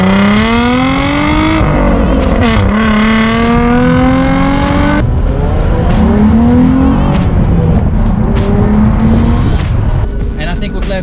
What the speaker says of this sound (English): It has an engine and it's got a little bit of a rumble.